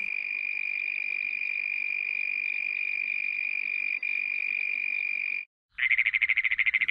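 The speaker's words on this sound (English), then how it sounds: "Red-spotted toad." Red-spotted toad of the Sonoran Desert giving a long, steady high musical trill that holds for several seconds alone, breaks off briefly, then resumes as a pulsing trill.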